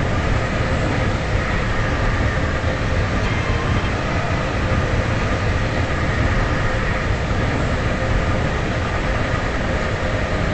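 A Stepford Express train in a video game runs on rails with a steady, loud rumble and roar, constant throughout with no talk.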